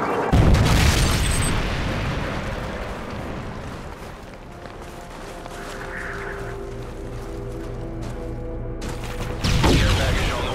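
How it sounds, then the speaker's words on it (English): A Predator missile strike in Call of Duty MW3 during a Kill Confirmed match, with heavy booming blasts at the start and again near the end and a rumbling game soundscape in between. "Friendly Predator missile inbound."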